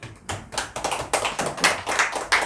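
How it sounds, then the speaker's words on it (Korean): A small church congregation at a prayer meeting claps, with irregular bursts of hand claps rising and falling over a few seconds, fairly close and without voices. "주님께 감사 박수 드리겠습니다."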